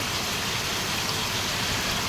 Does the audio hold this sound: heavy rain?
yes